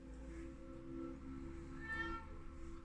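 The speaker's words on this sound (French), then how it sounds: "faut qu'elle vienne miauler, qu'elle dise bonjour" A house cat meows softly several times in a quiet indoor room, with one clearer drawn-out meow near the end over a low background hum.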